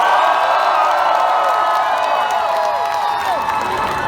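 A crowd at an outdoor blogger battle in central Moscow cheers and claps for a contestant, a dense, steady roar of shouts and whoops with applause underneath, loud and continuous.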